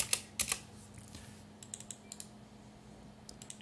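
A computer keyboard is typed on to name a folder, quiet and close, with a few quick keystroke clusters at the start, a pause, then scattered clicks in a light, irregular rhythm over a low steady hum.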